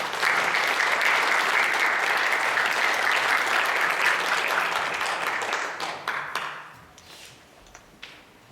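A seated audience at a church conference session applauds as the speaker is welcomed, steady dense clapping that holds for about six seconds and then tapers off into scattered claps.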